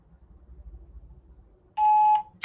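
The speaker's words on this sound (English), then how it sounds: "Please leave your name and phone number after the tone." A voicemail greeting's beep tone sounds once, a loud steady electronic tone lasting about half a second after quiet low room noise, followed by a short higher blip at the end.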